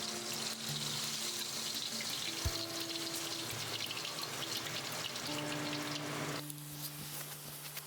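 Soft, steady crackling and sizzling of a whole snapper frying Taiwanese style in hot oil, a constant hiss with tiny pops, fairly quiet.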